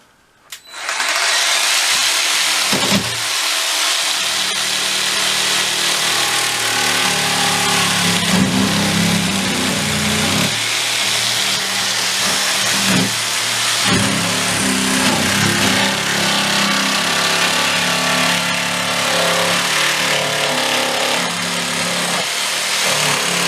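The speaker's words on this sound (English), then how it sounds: "I'm using a little early jigsaw here and cut along this seam" A small jigsaw cuts along the seam of a plastic box, a loud continuous buzzing motor drone that runs steadily for most of the time after a brief quiet start, with slight shifts in pitch as the blade works.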